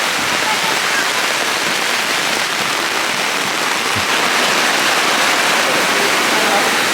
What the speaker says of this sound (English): Wow, it is seriously coming down now.